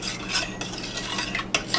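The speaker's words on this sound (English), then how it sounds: "Give this a quick little stir. Stir it up good." Vegetables for a vegetarian pizza stirred in a pan with balsamic vinegar, a spoon scraping and clinking against the metal in quick strokes over a soft sizzle, close and alone.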